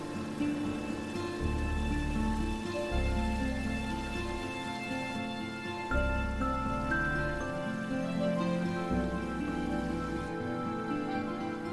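Steady rain falls throughout, a continuous soft patter of drops on surfaces, while a low music score rises and falls underneath and no one speaks.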